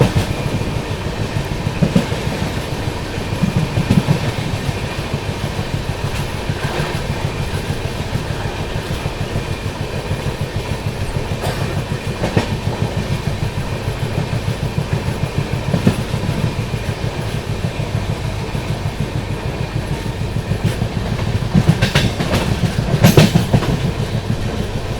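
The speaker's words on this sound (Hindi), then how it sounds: "इसी के पीछे पीछे आ रही है दोस्तों गोरखपुर से चलकर तिरुवनंतपुरम की ओर जाने वाली रप्ती सागर सुपरफास्ट एक्सप्रेस" Raptisagar Superfast Express, running from Gorakhpur toward Thiruvananthapuram, passes close by on Indian railway track, with steady heavy rumble and rhythmic clickety-clack of wheels over rail joints throughout, growing louder near the end.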